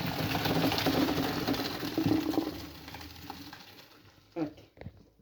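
Boiled pasta is tipped into a strainer to drain, a continuous loud watery rush and splash that slowly tapers off, ending with a few light clinks and taps of the pan and strainer.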